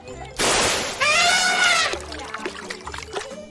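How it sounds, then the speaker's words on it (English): An elephant splashes water with its trunk: a loud gush and splash, then a bright trumpeting squeal, followed by scattered dripping and smaller splashes. "It's a big elephant splashing water with its trunk."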